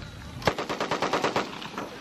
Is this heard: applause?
no